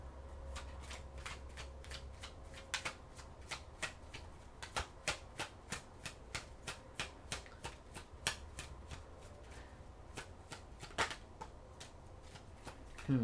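Tarot cards being shuffled close by, a steady run of soft riffling snaps and flicks repeating through the whole stretch, with no voice over them.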